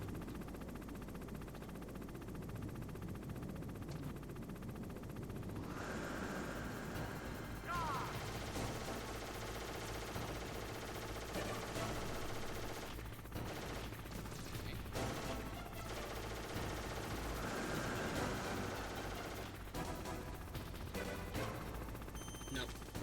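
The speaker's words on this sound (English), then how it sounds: "He'll probably just fire his gun immediately." A Hind D helicopter opens fire in the video game Metal Gear Solid, with bursts of rapid gunfire and mechanical clatter against a low rumbling background, moderately loud and intermittent, with a voice talking over parts of it.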